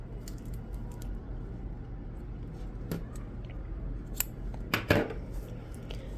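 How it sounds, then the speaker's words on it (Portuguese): Scissors snipping crochet yarn close by, a few quiet crisp clicks with a sharper double snip near the end, over faint background rustle. "eu vou cortar o fio"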